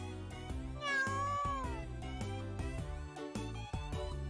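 A cartoonish cat meows repeatedly in the video game Chrono Clock, a few sliding, close meows over light game music.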